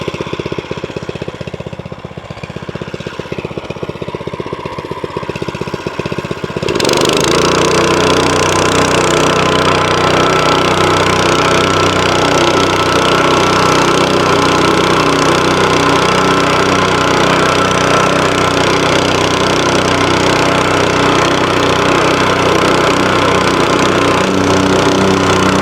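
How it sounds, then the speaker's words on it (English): VEVOR 6.5HP plate compactor gasoline engine idling with a rattling thrum, then revving up to a loud, steady, vibrating roar that holds close and continuous. "once you get to the higher speeds, I definitely recommend ear protection because these do get pretty loud just like any other engine"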